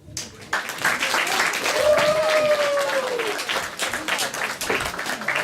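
Audience applause at a memorial concert in Ukraine as the first performer is called to the stage, a steady crowd of clapping hands that swells quickly and holds, with a voice and a sliding tone heard over it.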